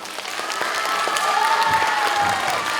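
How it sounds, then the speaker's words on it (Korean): Continuous applause from an audience at a school admissions information session for a Seoul webtoon and animation high school, a steady dense clatter of clapping filling the hall throughout. "계속해서 박수를 치고 있었어"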